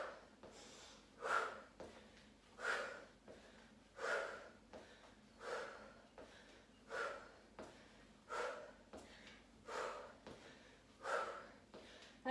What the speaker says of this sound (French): Vous entendez ma respiration,